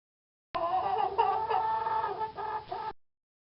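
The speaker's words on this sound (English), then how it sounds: "Chicken coop." Chickens clucking at a chicken coop on a farm in a computer game, a short burst of several overlapping clucks lasting about two and a half seconds, close and clear against silence.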